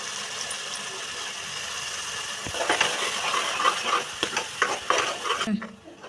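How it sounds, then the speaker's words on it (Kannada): Ground masala with chilli powder frying in a pan while being stirred: a steady close sizzle with scraping strokes of the spoon that grow busier and louder partway through, then fade near the end. "ಸ್ವಲ್ಪ ಹಸಿ ವಾಸನೆ ಹೋಗೋವರೆಗೂ ಕೈ ಆಡಿಸ್ತಾ ಇರಿ"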